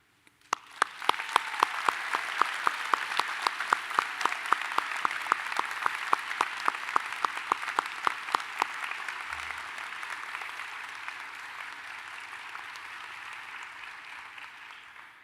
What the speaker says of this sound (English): Please join me in the best applause of the night that they absolutely deserve